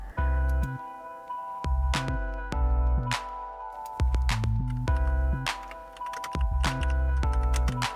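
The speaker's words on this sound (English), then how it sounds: "You can now hear my keyboard, so get ready for that." A computer keyboard clatters with quick, irregular clicks and taps, sounding close and crisp over a steady tonal musical backdrop.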